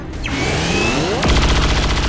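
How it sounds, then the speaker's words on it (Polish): Gunfire in the video game XCOM 2: War of the Chosen, starting with a rising whoosh and then a burst of rapid, loud, close shots in a tight rhythmic volley, with no talk. "Tutaj zrobimy strzał."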